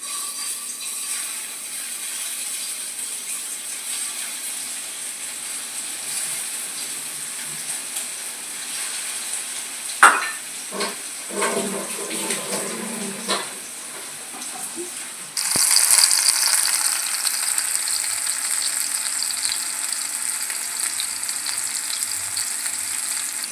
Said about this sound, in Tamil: இந்த டைம் நம்ம 65க்கு பீசஸை வந்து எண்ணெயில் போட்டுடலாம்